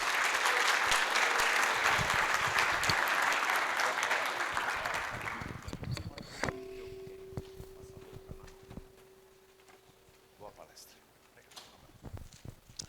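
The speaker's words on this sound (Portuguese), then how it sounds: "Senhoras e senhores, uma salva de palmas da Vector Processos Ágeis, o executivo Juliano Santos" An audience at a business talk gives a loud round of applause for an executive speaker, dense and sustained, then tapering off into scattered claps and a quiet room.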